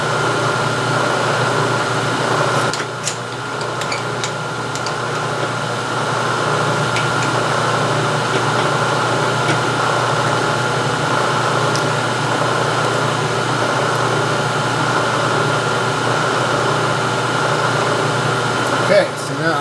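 A milling machine takes a finish cut on a rotary table with a 3/16-inch cutter depth, milling radii on a carriage stop body, a steady loud motor hum and cutting drone running evenly throughout.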